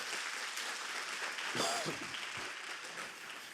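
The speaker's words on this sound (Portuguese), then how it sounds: "Dá uma salva de palmas para Jesus." A church congregation claps steadily throughout, a continuous dense patter of many hands with a brief voice rising over it midway.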